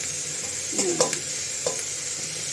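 Chopped chilies and tomatoes tumble into a pan of frying moong dal and vegetables, giving a steady sizzling hiss with a few soft stirring scrapes and clinks, close and with no talking.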